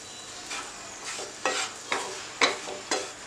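Rice bran powder dry-roasts in a pan over a low flame as a spoon stirs it in about five regular scraping strokes, each a short gritty swish over a faint steady background.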